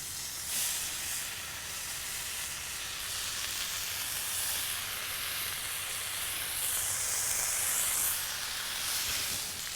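Bacon for a burger fries on a hot surface, giving a steady, bright, close sizzle and hiss that runs without a break and with no voices.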